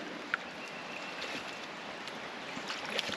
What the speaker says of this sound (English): There's so much water coming out of the hills.